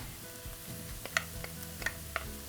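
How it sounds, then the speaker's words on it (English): Garlic sautes in a pan for vegan meatballs, a faint, steady sizzle with a few soft ticks and clicks of utensils against the pan. "we'll saute the garlic for about 30 seconds"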